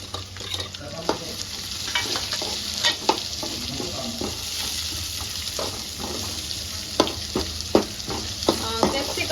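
Onions fry in a pan for veg hakka noodles, a constant close sizzle punctuated by repeated scraping and clinking strokes of a spoon stirring throughout.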